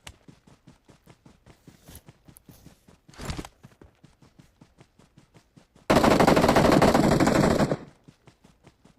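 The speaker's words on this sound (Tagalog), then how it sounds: "May bumabaril dyan?" Rapid footsteps patter in PUBG Mobile, then a short burst of gunfire, followed by a long, loud sustained volley of automatic fire.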